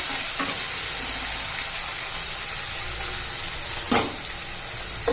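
Tomatoes added to a hot frying pan for a spicy Bhogi vegetable dish, giving a loud, continuous close-up sizzle with brief scraping stirs of a spoon through the hiss.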